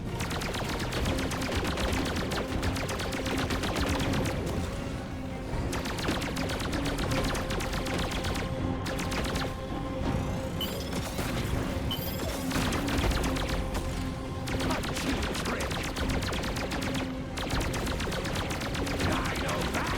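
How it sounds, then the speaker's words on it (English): Cannons fire in rapid, continuous volleys through a combat flying video game, with dense booming and rattling gunfire that stays loud and constant throughout. "Are those new cannons, or did I just miss them?"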